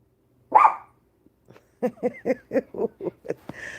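A dog gives one sharp bark, then after a pause a quick series of about seven short barks and yips, close by, ending with a whine.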